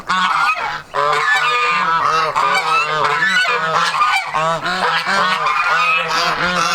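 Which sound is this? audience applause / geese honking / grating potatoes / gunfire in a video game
geese honking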